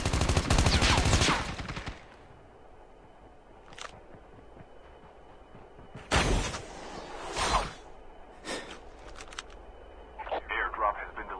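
Gunfire in the mobile shooter Call of Duty Mobile, a loud burst of automatic fire at the start followed by scattered shorter bursts and single shots, with game effects between them and no talk.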